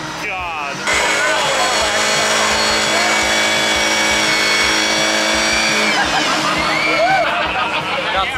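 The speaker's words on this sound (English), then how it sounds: "So they have the Bobcat pushing on the wheel." A Bobcat skid steer pushes on a car's wheel during a burnout session while an engine screams at high, sustained revs for several seconds before easing off, with faint voices in the background.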